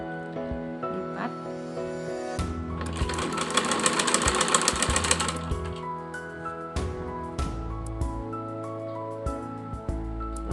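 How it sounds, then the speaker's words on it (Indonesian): A sewing machine stitches fabric 1 cm from the edge while making a fringed bed sheet, with a rapid rhythmic mechanical whir that rises in the middle, then stops and starts among handling noises. "Saya akan menjahit dengan jarak 1 cm dari tepi kain."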